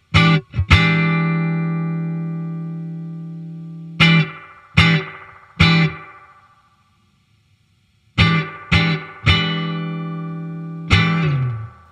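Plucked guitar notes run through a Spring King spring reverb pedal, each ringing out in a long, shimmering decay. Single notes and quick clusters alternate with a brief silent gap.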